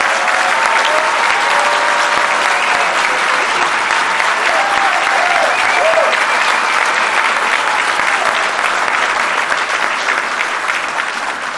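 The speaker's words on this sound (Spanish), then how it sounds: "por favor, un fuerte aplauso" A large crowd of coffee growers gives a strong, sustained round of applause at the opening of a coffee factory in Veracruz, with loud, dense clapping running continuously and a few brief voices rising within it.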